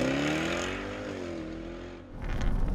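A Lister LFT-C 666, a tuned 666hp Jaguar F-Type sports car, revs and hums with a rising and falling tone, then surges louder with a rough roar near the end.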